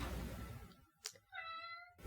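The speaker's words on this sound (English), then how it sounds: "That is my cat" A pet cat gives one clear, drawn-out meow, quiet and close in an otherwise still room, following a short fading rustle.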